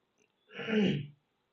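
A single short, throaty cough or throat clear from a person, close and moderately loud, alone in otherwise quiet surroundings.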